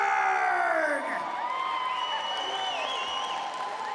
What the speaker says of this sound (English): Notable that there's not many men applauding in the audience, but plenty of women.